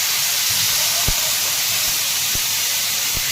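Mung dal sizzles in hot oil in a pan, giving a loud, steady hiss throughout, with a few faint taps from the pan or a spoon underneath.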